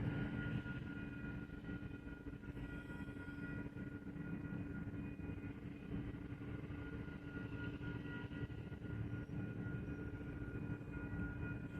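Steady drone of a helicopter circling overhead during a fire on the South Shore, a continuous distant engine rumble holding even throughout with no voices.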